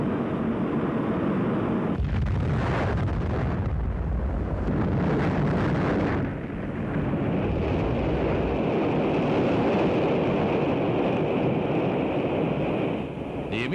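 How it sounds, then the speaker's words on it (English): An Atlas-Centaur rocket explodes shortly after launch, heard as a loud, continuous roaring rumble that swells and shifts over about fourteen seconds, with no voices. "The immediate cause of the explosion is not known."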